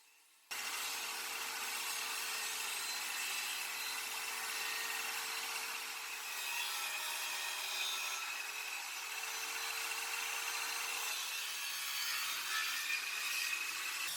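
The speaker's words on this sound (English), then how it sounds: "ran the 3 lengths of timber through the table saw to get them all the same width" Table saw ripping three lengths of timber to equal width for a cutting board, a steady loud whine and cutting roar running almost unbroken after a brief quiet start, with slight shifts in pitch.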